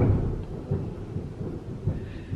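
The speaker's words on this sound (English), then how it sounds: "it's thundering outside, y'all. I don't know if y'all can hear it." Thunder rumbles outside during a storm, a low, muffled roll with a few soft swells, heard faintly from indoors with a faint wash of rain.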